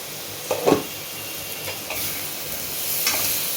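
Banana flower curry (mochar ghonto) sizzling and frying in a pan with a steady hiss and a few clinks of a spoon stirring, close up and alone.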